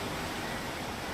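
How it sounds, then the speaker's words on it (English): A river flowing as a loud, dense, continuous rushing wash of water, steady and close with no pauses or voices, heard on a northern journey. "The river."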